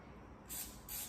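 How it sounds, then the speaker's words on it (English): Cooking spray hisses into a microwaveable bowl before mochi goes in, two short close bursts about half a second apart in a quiet room. "spray it with some cooking spray"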